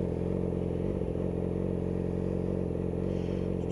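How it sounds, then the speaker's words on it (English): A motorcycle fitted with a Two Brothers exhaust runs close by, a loud, steady, throbbing engine note with a slight rev near the end. "Two Brothers exhaust is loud"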